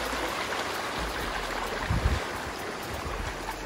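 Steady rushing flash floodwater flows continuously, a broad wash of noise with a brief swell near the middle; no voices.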